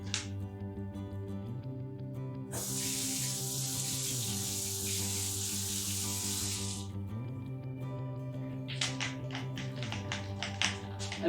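Water runs from a tap in a steady hiss for several seconds as the tip of a spray texture can is rinsed while a skylight hole is being finished, followed by a few short splashes and drips.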